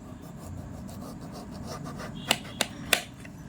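A knife slices a peeled vegetable into thin pieces for fritters on a board, three sharp close cuts standing out near the end over a soft, steady background rasp.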